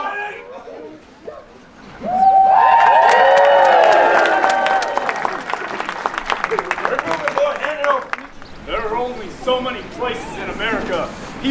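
A large outdoor crowd cheers, whoops and applauds loudly after a Tombstone gunfight reenactment, swelling suddenly and then fading into scattered clapping and chatter.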